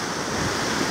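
Ocean surf rolls onto Ngekul Beach in South Malang, a loud, continuous broadband wash of waves mixed with wind buffeting the microphone, with no voices.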